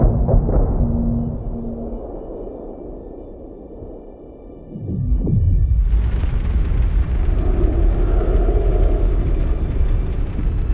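A rocket launcher explosion in Dune: Awakening, with a deep rumbling blast and a falling whoosh, then a sustained loud, roaring, crackling burst of debris and fire that holds steadily to the end.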